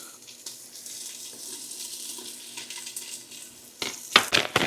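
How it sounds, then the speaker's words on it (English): Onion and garlic hit the hot Instant Pot with a steady low sizzle, close and moderate, followed by a few louder clattering stirs near the end. "I'm going to add in that onion and garlic."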